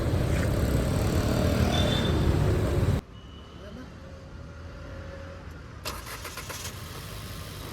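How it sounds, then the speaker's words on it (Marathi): A car engine just started after a repair runs steadily at idle, loud and close at first, then quieter and more distant after a sudden drop, with faint clicking toward the end. "फायनली आपली गाडी चालू झाली"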